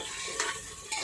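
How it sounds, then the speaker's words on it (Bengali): Potatoes fry in a pan while being stirred, a steady sizzle broken by two quick scraping stir strokes, close and alone. "আলুটাকে আমরা খুব ভালো করে ভেজে নেব"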